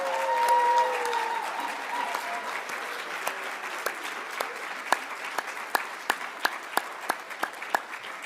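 Sustained audience applause at a University of Wisconsin-Madison School of Education winter pre-commencement ceremony for graduates, a dense crowd clapping that slowly thins into scattered, sharper individual claps toward the end, with no talk.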